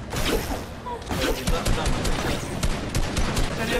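Fortnite gunfire crackles in rapid repeated bursts, like a fusillade, over a busy game backdrop.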